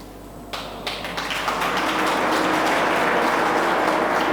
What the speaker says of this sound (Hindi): प्लीज तालियां बजती रहनी चाहिए